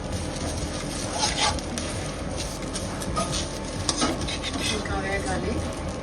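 Idli podi spices frying in oil, stirred with a spoon in a pan, giving a steady scraping and sizzling texture that runs throughout, with a few sharper scrapes standing out.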